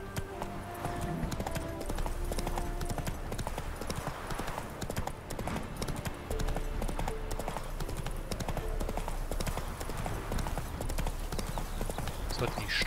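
A horse's hooves clip-clop steadily along a road while riding in the video game The Witcher 3, an even, close trotting rhythm that continues throughout under someone talking and game music.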